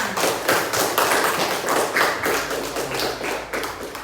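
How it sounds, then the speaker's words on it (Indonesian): Classroom audience of students clapping for a group that just gave its presentation, a dense, steady patter of hand claps lasting the full stretch at fairly close range. "Ayo tepuk tangan."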